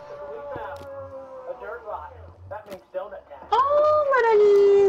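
Minecraft wolves give high whimpers, yips and a drawn-out rising howl, close and fairly loud, with people talking over and between the cries.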